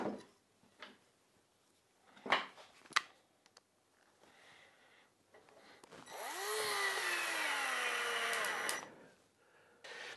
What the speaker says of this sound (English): I'm going to countersink this one.